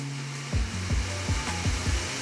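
A blender mixes milk, frozen bananas, cacao powder and peanut butter in a steady whirring drone, with a series of rhythmic low knocks as the frozen chunks hit the blades.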